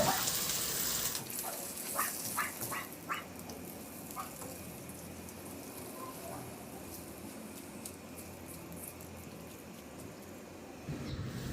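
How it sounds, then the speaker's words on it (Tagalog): Water runs and gushes into a pot of sautéed mung beans and meat, a steady continuous pour filling the clip with a few faint clinks early on. "Lagyan ko na ng tubig."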